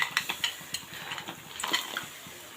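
Shol fish and pumpkin bori tipped into a curry pot, heard as a quick series of close metallic clinks and soft scrapes of a utensil against the pot, followed by a faint sizzle.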